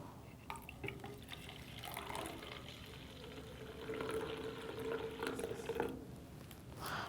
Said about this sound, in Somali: oomada hadda weel ayaa ku shubanay